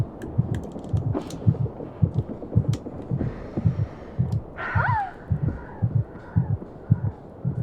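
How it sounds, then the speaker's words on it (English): Heartbeat effect from the climbing video game Jusant: steady low double thumps repeating throughout, muffled and close, with faint tonal game sounds and a brief higher cry layered above. "We hear the heartbeat."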